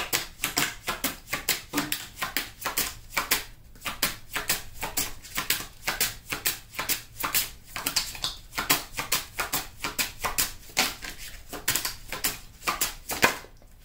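Tarot cards being shuffled close up, a long run of quick, crisp riffling bursts in an even, repeating rhythm.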